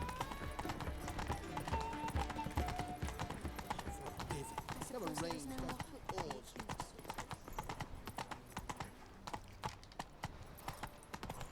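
Horse hooves clip-clop steadily in The Witcher 3: Wild Hunt as the rider travels on horseback, the rhythmic beats running under spoken dialogue and game music throughout.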